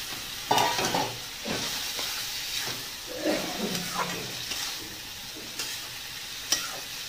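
Soaked matar dal sautés in a pan for a Bengali shukto, giving a steady moderate sizzle with stirring and scraping clatter and a few sharper knocks of the spoon against the pan.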